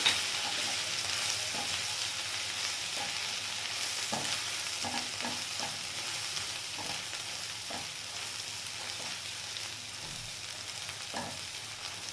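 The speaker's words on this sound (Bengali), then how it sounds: "মশলাটা হালকা করে কষিয়ে নেব" Coriander and cumin powder paste frying in a pan for a pabda fish curry, with a steady close sizzle under occasional soft stirring scrapes throughout.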